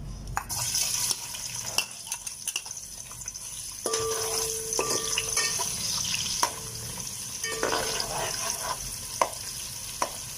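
Onions frying in about a cup of oil in a pot for lentil khichdi give a steady, close sizzle, with scattered clinks and scrapes of stirring and no voices.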